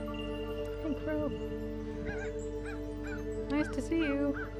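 A crow caws several times in short rasping bursts, fairly close, over a steady low hum, with talk under and between the calls.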